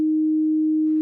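A single pure, steady sine tone holds at one low-mid pitch for about a second, clean and constant, with no other sounds.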